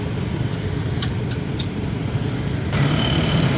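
Road traffic at the Meralco Avenue intersection in Ortigas, a steady rumble of car engines with brief high squeaks, growing slightly louder near the end.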